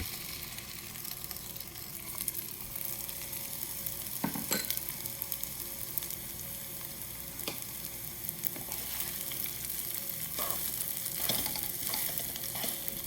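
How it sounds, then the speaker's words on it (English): Sabudana khichdi mixture of tapioca pearls frying in ghee in a pan, a steady close sizzle broken by a few scraping stirs and clatters of the spoon. "And then I am going to add our khichdi mixture to the pan."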